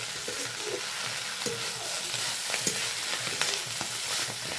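Leafy greens (bete or bele shaak) frying in a pan as a little water is added, a steady hissing sizzle with scattered stirring scrapes and clicks, close and continuous.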